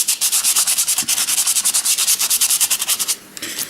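Paintbrush dry brushing over textured plastic card on a model retaining wall, a steady rhythm of close, loud scratchy strokes repeating rapidly for about three seconds before stopping.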